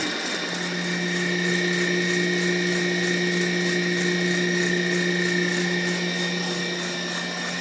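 An electric mixer whirs steadily as it beats a banana pudding meringue topping with cream of tartar to stiff peaks, a loud continuous motor drone with no talk.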